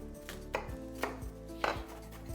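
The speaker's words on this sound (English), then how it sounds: "actually going to give a nice little mince on my shallot" A knife mincing a shallot on a cutting board, a few sharp, separate chops with short pauses between them, close and alone.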